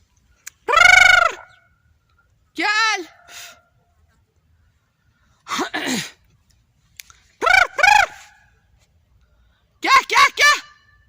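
Several separate bursts of loud poultry calling, harsh and harmonic, spaced across the clip like hens or a rooster sounding off nearby.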